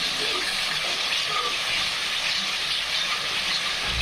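Onion-tomato masala for spicy mutton rassa fries in a pan with a dense, steady hiss close by, unbroken and fairly loud.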